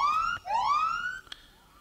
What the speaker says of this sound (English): a recording of the rising kind of two-chirp siren of the LA police car